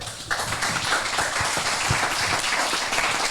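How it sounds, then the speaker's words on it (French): An audience applauds a presenter after an online talk session, dense close clapping that starts abruptly and holds steady and loud for a few seconds. "Je crois qu'on peut l'applaudir."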